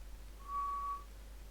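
A single pure, steady whistle tone holds for about half a second against a quiet background hum.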